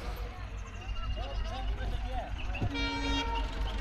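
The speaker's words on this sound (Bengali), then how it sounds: "ধীরে ধীরে অনেক আস্তে আস্তে আসছে ট্রেনটা" An express train rolls slowly into a railway junction with a low, constant rumble, and a short horn toot sounds near the end, while voices murmur in the background.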